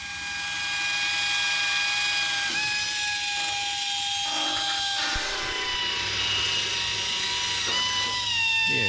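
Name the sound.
power drill drilling holes through aircraft skin and attach angle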